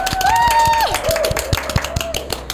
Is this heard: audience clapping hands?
yes